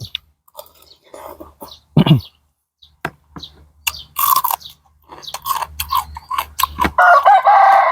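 Chickens cluck close by amid scattered rustling and clicking sounds, and a rooster crows loudly near the end.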